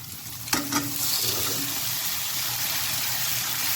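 Shrimp and tomatoes fry in a pan for a tomato chutney, a steady close sizzle broken early by a couple of sharp clatters of stirring.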